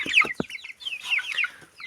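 Chickens, a rooster and hens, cluck close by in short, uneven bursts of clucks and squawks, with brief pauses between the calls.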